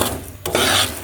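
Rice is fried in a pan with meat gravy and spices, giving a close, dry scraping and rasping as it is stirred against the pan, with one sharper scrape midway.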